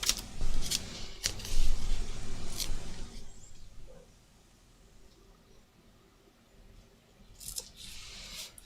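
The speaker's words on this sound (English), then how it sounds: "So I'm going to peel off the back," Paper backing is peeled off an adhesive craft embellishment, giving a close, loud crackling rip for the first few seconds, then near silence, and a brief papery rustle again at the end.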